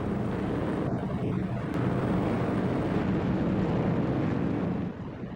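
A dense, droning rumble of WWII bomber engines flying overhead, a continuous low roar with a steady throb that holds at the same level before easing at the end.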